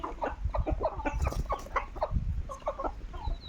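Country chickens, roosters and hens together, cluck in irregular bursts close by, with overlapping calls and short squawks coming one after another.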